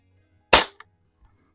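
A single sharp rifle shot cracks out close by from a rifle fitted with a vintage scope, followed by a brief decaying echo and a small after-click.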